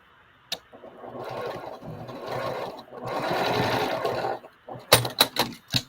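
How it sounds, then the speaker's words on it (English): A sewing machine stitches a lined drawstring bag in two sustained runs of rapid whirring, then finishes with a few sharp, loud clicks and taps nearby. "When you're going to start sewing everything together,"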